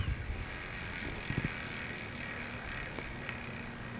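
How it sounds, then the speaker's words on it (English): A Hadley Racing bicycle hub freewheel spins outdoors with the microphone right beside it on a wheel with We Are One rims, giving a quiet, steady whirring hiss with a few faint clicks. "Hadley Racing hub with the microphone right next to the freewheel."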